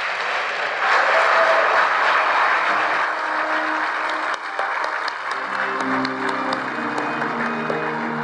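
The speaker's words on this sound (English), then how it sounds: "Let's give her another big round of applause." A large conference audience breaks into sustained applause, a dense, steady wash of clapping that fills the hall and slowly fades, with faint tones underneath as it winds down.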